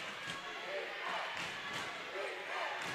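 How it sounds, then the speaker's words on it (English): Blytheville high school basketball game crowd roaring steadily throughout, a dense wash of cheering with occasional thumps and voices surging as the home team rallies. "listen to this Blytheville crowd getting fired up as their team gets back in it"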